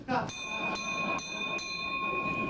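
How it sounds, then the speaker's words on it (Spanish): A handbell rung by a school director to call children into class, several sharp metallic strikes with long ringing overtones, loud and close, repeated about four times. "Señor director, tenga la bondad de tocar la campana, por favor."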